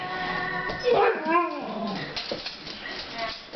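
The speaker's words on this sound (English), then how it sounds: "look at that, crazy puppy" A puppy lets out high, wavering whimpers and whines amid scuffling, with a person talking over parts of it.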